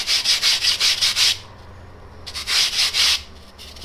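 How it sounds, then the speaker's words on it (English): Block of polyurethane foam sanded by hand after rough cutting, with quick rhythmic back-and-forth scrubbing strokes in two bursts separated by a short pause, loud and close. "So after we have roughly cut it, we have to sand."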